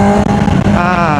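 A Honda CBR650R motorcycle engine runs loudly and up close in a traffic jam, holding a steady throaty drone that rises into a brief rev toward the end.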